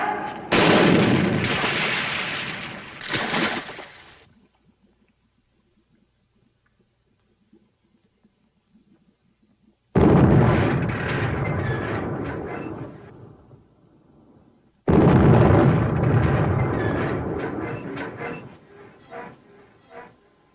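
Loud close gunfire and explosions in a 1943 war film, heard as heavy booming bursts separated by a near-silent gap, then two more long rumbling barrages.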